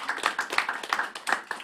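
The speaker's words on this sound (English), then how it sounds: "Can we give them a wonderful round of applause?" An audience claps for panellists at a campaign launch, brief rhythmic applause from a small group, fairly close and lasting under two seconds.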